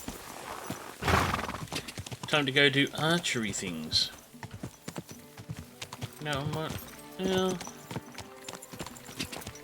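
Horse hooves clip-clop in the video game Kingdom Come Deliverance 2 as a horse moves along, with steady rhythmic hoof strikes and a whinny heard under someone talking and game music.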